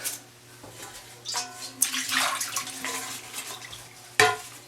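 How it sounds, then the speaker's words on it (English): A repaired bathroom faucet, its aerator cleaned and screwed back on finger tight, runs with a strong, steady stream splashing into the basin. There are a few sharp clicks, and no one speaks. "now you got great water flow"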